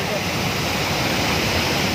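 Kaigal Falls waterfall pours with a loud, steady broadband roar of rushing water, continuous and close, with no other sounds standing out.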